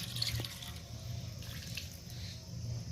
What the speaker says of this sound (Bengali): আমি আরও কিছুটা পরিমাণ জল দিয়ে দিলাম